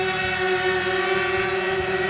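A 250-size racing quadcopter with GPS flies at night, giving off a loud, steady, high-pitched motor whine that stays close and constant.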